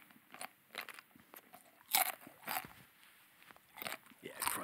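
Someone crunches hot food in the mouth, a series of sharp, irregular crisp bites and chews, quiet and close, with faint voices around.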